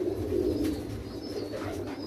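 Low, soft pigeon cooing at a pigeon farm in Parbhani, Maharashtra, rolls on steadily over a busy, murmuring background of more birds, close by and fairly quiet.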